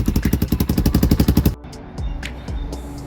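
Close, loud rhythmic thumping from a Lifan KP Mini 300 motorcycle with a swapped ZS175FMN four-valve engine runs for about a second and a half, then cuts off abruptly, leaving quieter clicks and background noise.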